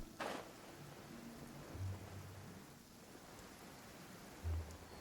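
Steady rain falls in Genshin Impact, a broad continuous hiss of drops with a few soft low thuds, fairly quiet and alone with no talk.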